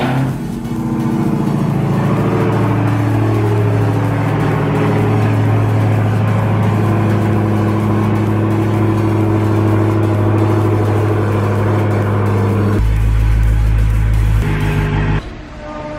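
A Dodge Hellcat's engine drones steadily and loudly from inside the car as it drives, a deep continuous rumble that shifts pitch near the end before easing off.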